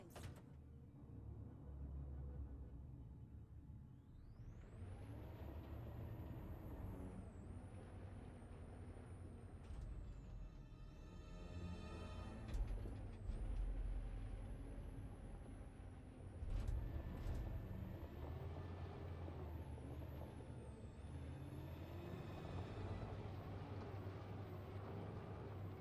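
A truck in the video game Detroit: Become Human drives with a steady, loud low engine rumble for the whole stretch, with hiss-like brake or air sounds and surges in level along the way.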